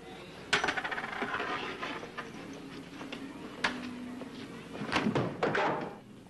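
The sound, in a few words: ball thrown at milk bottles at carnival stand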